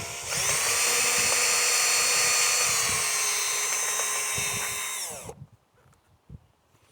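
A power drill whirs in one continuous, close burst of about five seconds as it backs screws out of car trim, then spins down and stops, followed by light clicks.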